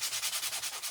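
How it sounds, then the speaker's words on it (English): A painted wooden spindle is sanded by hand with steady, rhythmic back-and-forth scratchy strokes, about a dozen quick passes, close and loud with no voices. "We're going to sand it on one side"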